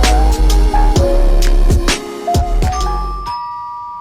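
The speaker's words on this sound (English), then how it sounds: "My doorbell's just gone." A home doorbell chimes, its electronic tones ringing out and fading over the last second after a stretch of busy, rhythmic background sound.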